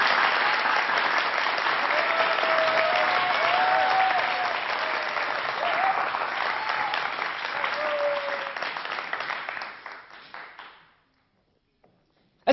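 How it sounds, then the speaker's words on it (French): Sustained applause from a French TV studio audience greeting Jamel Debbouze, a loud, even crowd of clapping hands lasting around ten seconds, then tapering off abruptly to quiet. "Jamal Debbouze. On l'applaudit."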